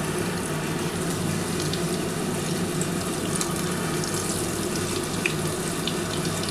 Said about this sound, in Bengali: আমি আস্তে করে প্রথমে ডিমের চপগুলো ভেজে নিচ্ছি।